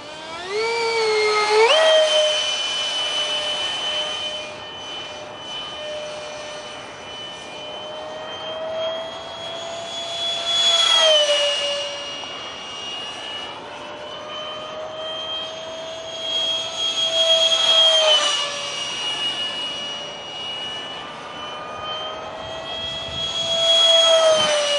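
A 70mm electric ducted fan RC jet with a bat-wing design flies overhead, its high whining fan tone swelling loud on repeated close passes and easing back as it moves away, with no talk.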